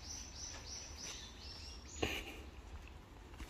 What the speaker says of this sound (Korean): 새 소리들도 유난히 많이 나요